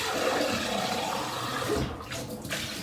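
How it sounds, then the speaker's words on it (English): Water running into a protein shaker bottle from a tap, a steady close rushing splash that briefly dips and gurgles near the end. "I'm just going to wash this out, and then I'm going to add more water to it"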